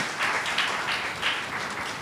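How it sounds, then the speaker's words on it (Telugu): A church congregation at Hosanna Mandir in Nalgonda claps together in worship, producing a steady, dense wash of applause that carries on for about two seconds. "చప్పట్లు కొట్టి దేవుణ్ణి మహిమపరుచుకుందాం."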